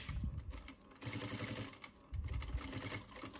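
A sewing machine runs a 0.5 mm topstitch along fabric for a costume blouse, giving a soft, quiet rapid stitching patter in short bursts with pauses between.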